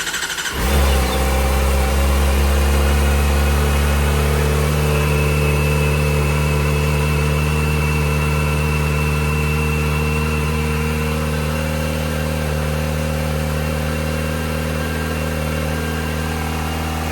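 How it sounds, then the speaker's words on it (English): Stock exhaust on a Kawasaki ZX4RR motorcycle fires up and settles into a steady, loud idle with a smooth high-pitched inline-four drone, close by and alone without talk. "let's get the noise of the stock exhaust."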